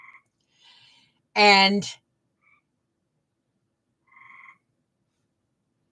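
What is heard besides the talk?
gray tree frogs calling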